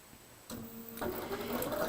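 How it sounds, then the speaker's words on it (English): A sewing machine stitching a quarter-inch seam on leftover quilt pieces for an improv block starts up and runs with a steady, fast mechanical whir, close and quiet with no talking. "I pretty much sew a 1/4-inch seam"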